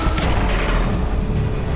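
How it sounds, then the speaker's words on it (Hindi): Soldiers fire into the air near Spanggur Lake by Mukhpari Top: a loud, dense burst of overlapping gunshots booming continuously without pause. "इस दौरान चीन के सैनिकों ने हवाई फायरिंग की।"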